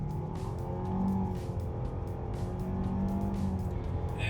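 A 2021 Nissan Rogue with 181 horsepower accelerates hard, its engine note a steady, rising drone heard from inside the cabin under tire and road noise, with no speech.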